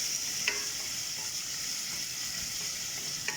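Chopped tomato sizzles steadily in a hot pan while being stirred, a loud continuous frying hiss broken by two faint scrapes of the utensil.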